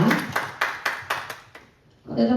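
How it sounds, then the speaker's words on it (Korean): Applause for a university department's student council at a year-end general meeting, a few loud claps rising over room chatter for about a second and a half, then fading before voices resume. "다시 한번 1년 동안 고생해주신 우리 과대단 분들께 힘찬 박수 부탁드립니다"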